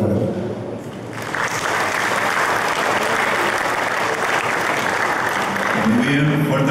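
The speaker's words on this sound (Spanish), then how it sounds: "fuerte el aplauso" An audience at the official opening of an agricultural trade show bursts into sustained applause, a dense, even clatter of many hands that swells after a brief lead-in and continues steadily to the end.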